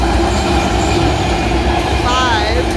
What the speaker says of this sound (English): Oh, I love these trains.